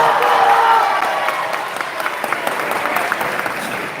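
A school ceremony crowd gives the top ten students a loud round of applause with a few cheers, the clapping dense at first and then thinning slightly while staying steady.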